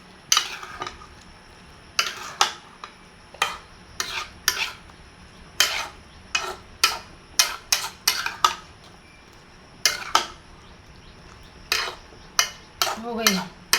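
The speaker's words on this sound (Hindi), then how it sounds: "तो अभी इनको मिक्स करते हैं।" Ingredients being mixed in a bowl with a spoon, a series of irregular scraping and clinking strokes, close and distinct, with quiet pauses between them.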